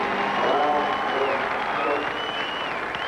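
A Speedway crowd applauds a driver who has coasted to a stop, a steady distant wash of clapping with light cheering beneath a commentator's voice.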